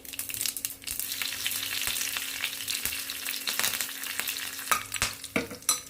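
Chillies and curry leaves sizzling in hot oil for a chutney tempering, a dense crackling hiss with spoon stirring and scattered sharp pops, louder bursts near the end.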